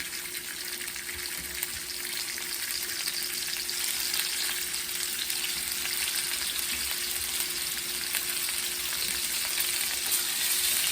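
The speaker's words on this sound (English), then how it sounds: "you want that pan nice and hot, so when you put these in, they start getting a real nice browning on them" Beef short ribs brown in a hot pan with a dense, even sizzle that holds steady for about ten seconds, close and continuous with no talking.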